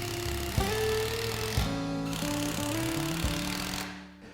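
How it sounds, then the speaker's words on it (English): A power drill drives screws into timber while building a stud wall: several bursts of close motor whine that rise and drop in pitch as each screw is driven in, with short pauses between runs. "I'm going to go back around and I'm going to put a second screw into each timber."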